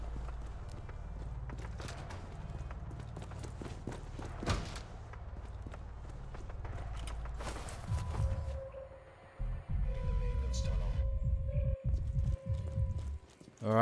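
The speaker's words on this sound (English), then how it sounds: "I can hear their footsteps. They're coming in." Enemy footsteps approaching in the video game Trepang2, a run of sharp clopping steps over a low droning game ambience, followed by mechanical clanks and tonal game sounds near the end.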